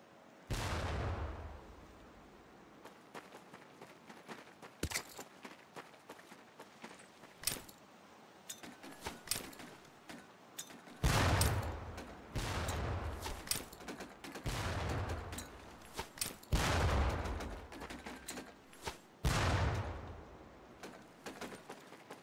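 Training grenades thrown during boot camp in Medal of Honor: Pacific Assault burst in repeated sharp explosions at irregular intervals, with rumbling low tails and rattling debris between blasts.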